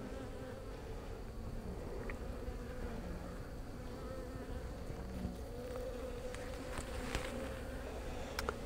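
Honey bees buzzing steadily during a hive inspection, a dense continuous drone of many insects close by, with a few faint clicks and knocks.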